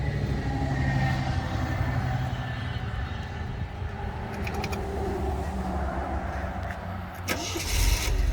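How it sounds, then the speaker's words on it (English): A 1976 MG MGB 50th Anniversary Edition, its engine cranking and rumbling in a low, uneven churn before a sharper burst near the end as it catches and fires. "Can you just start the car? Just crank it."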